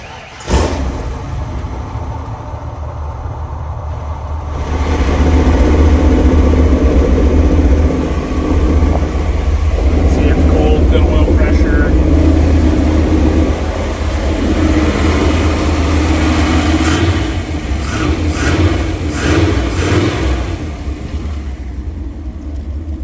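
1933 Ford Factory Five Roadster engine cranks and fires up indoors in a showroom, then settles into a loud, deep, lumpy idle with a few blips of revving.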